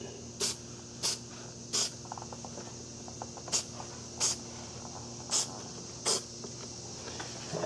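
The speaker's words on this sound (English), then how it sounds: "We've got some all-purpose spray adhesive here. We're just going to spray a little bit on." Short hissing bursts of all-purpose spray adhesive from an aerosol can, about eight quick sprays spaced irregularly over a low background hum, while fitting a Chevy Suburban inner door panel.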